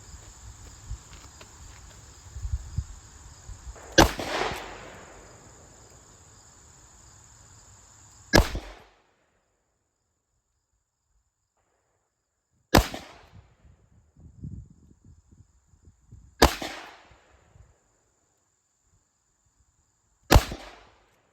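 Five sharp gunshots from a Ruger LCR revolver firing 130 grain .38 Special rounds, spaced several seconds apart, each a loud crack with a short decay, over quiet outdoor background.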